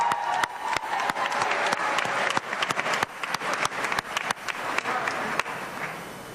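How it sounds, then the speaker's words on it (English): Audience at a 2018 graduation ceremony applauding a class president, steady crowd clapping with sharp individual claps standing out near the microphone. "a round of applause"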